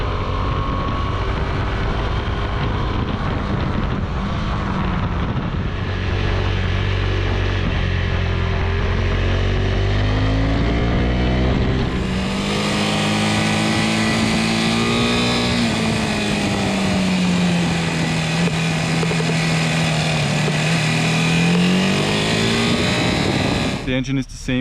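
A KTM 390 Adventure motorcycle engine, shared with the 390 Duke, runs and revs in steady drawn-out swells, close and loud, rising in pitch midway with someone talking over it.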